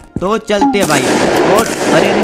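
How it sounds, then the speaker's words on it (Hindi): Gunfire in the Streamer Life Simulator video game: a loud, dense burst of shots that follows someone speaking and continues under his voice. "दो गोली का आवाज है मेरे को, दो गोली किसी ने फायर किया"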